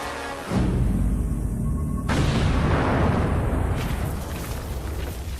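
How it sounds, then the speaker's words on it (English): A sudden deep boom from an ammonium nitrate fuel oil explosion erupts after a quiet moment, followed by a sustained roaring rumble and scattering debris that slowly fades. "It's a massive explosion that creates a big plume of debris"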